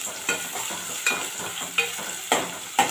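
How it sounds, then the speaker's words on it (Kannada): Two medium chopped onions frying in hot oil for a prawn curry give a steady close sizzle, with a utensil stirring and scraping at a regular rhythm about four times. "ಇದಕ್ಕೆ ಹೆಚ್ಚಿರೋಂಥ 2 ಮೀಡಿಯಮ್ ಸೈಜ್ ಈರುಳ್ಳಿ ಪೂರ್ತಿ ಹಾಕ್ಕೊಳ್ಳಿ, ಇದು ಚೆನ್ನಾಗಿ ಫ್ರೈ ಆಗಲಿ"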